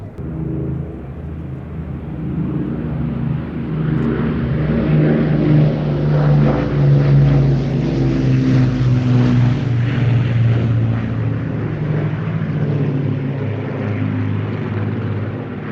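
A Lancaster four-engine propeller bomber at an air festival, a loud continuous drone of piston engines and propellers that swells and holds as the aircraft passes close overhead, with no talking.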